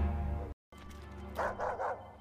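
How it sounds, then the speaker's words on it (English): A dog barking in an animated Star Wars series, a few short barks over a tonal musical score, broken by a brief moment of silence near the start. "Wait, that's just a dog."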